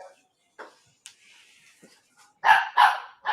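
A dog at home gives scattered soft yips and whimpers, then bursts into three loud, close barks in quick succession.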